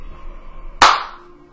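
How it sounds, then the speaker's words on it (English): One sharp, loud hand clap right into a microphone, with a quick decaying tail, over quiet background hum. "Sorry, clapped into the mic."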